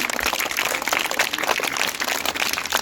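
Audience applause at a community event, a dense, steady wash of many hands clapping for nearly three seconds at moderate level, with no voices standing out.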